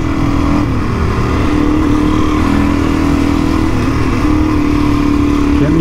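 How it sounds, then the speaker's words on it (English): A small DRZ dual-sport motorcycle engine drones steadily while riding through the Simpson Desert, loud and continuous with a constant hum and steady wind and road noise throughout. "Oh, the little DRZ."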